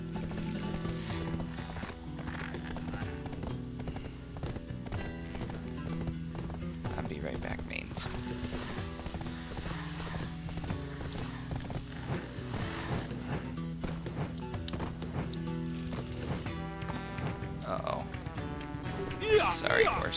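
Horse hooves clip-clop in the online game Black Desert Online, a steady galloping rhythm under a layer of game music and ambience, with a whinny near the end.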